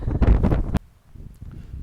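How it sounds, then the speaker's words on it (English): Gusty wind on an open mountain ridge buffets the microphone in a loud rush, then drops to a low, uneven rumble of breeze. "it's a little windy."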